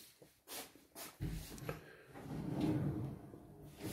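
A wide kitchen drawer is opened or closed in a new kitchen, giving a few faint knocks and then a soft, longer sliding rumble at low volume.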